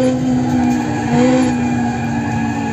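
Car braking with tires skidding in a retro racing video game, a steady loud screech over a constant engine drone with no pause, running without talk.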